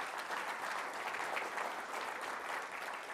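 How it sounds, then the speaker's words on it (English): Large audience at a CEO Connect conference in Sydney giving a round of applause, a thick, even roar of many hands clapping, sustained and fairly strong for the full few seconds without anyone talking. "So round of applause to everyone."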